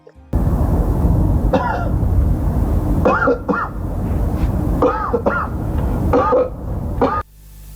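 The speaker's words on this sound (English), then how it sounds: "Lucan then begins to cough" A person coughs loudly several times in uneven bursts over continuous background noise, close and harsh, with a short pause between fits.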